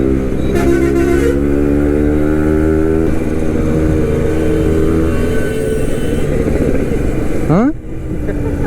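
A Suzuki Max 100 motorcycle rides through city traffic with a loud, steady two-stroke engine drone, revving rising and falling against the surrounding traffic din, with voices present.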